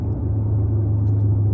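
Steady low engine rumble from a muscle car cruising, droning evenly throughout at close range with no talk over it.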